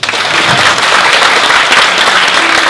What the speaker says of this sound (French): On applaudit Olivia.